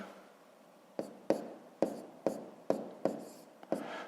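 Numbers handwritten during a fifth-grade maths addition exercise, heard as close, rhythmic strokes and taps of a pen on paper, about eight distinct marks in quiet.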